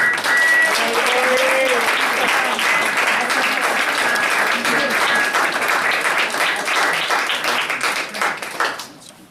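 A school board meeting audience claps for a staff member, steady dense applause that holds for several seconds and then thins out and fades at the end.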